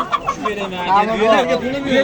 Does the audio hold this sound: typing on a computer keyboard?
no